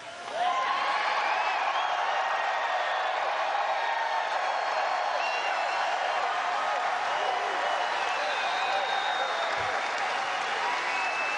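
Packed arena crowd at a rally cheering and applauding continuously, a dense loud roar of clapping with whoops that holds steady from start to finish.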